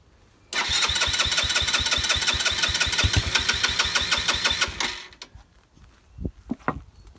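A cafe racer motorcycle engine with the choke on cranks with a rapid, loud starter chatter for about four seconds, then cuts out, leaving a few faint knocks and thuds.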